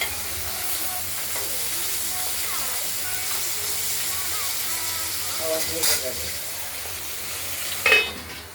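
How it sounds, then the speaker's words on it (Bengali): Rohu fish pieces frying in oil in a pan, a continuous loud sizzle and hiss with occasional utensil scrapes and a brief sharper clatter near the end. "আরেক পিস ভাজা করে দিচ্ছি।"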